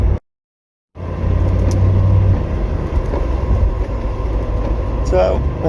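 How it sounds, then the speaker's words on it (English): Triumph Stag classic car driving in rain and hail, a steady low engine and road rumble with wet hiss, loud and continuous after a brief silent start. "So, this is driving a classic car in the rain."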